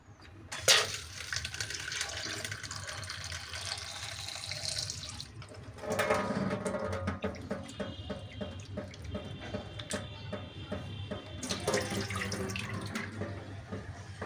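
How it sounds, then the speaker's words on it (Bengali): Mangoes being washed under running tap water, a steady close stream splashing into a sink with occasional handling knocks and shifts in the flow as the fruit is rinsed. "এই যে আমাদের আম, এখন আমরা ধুবো।"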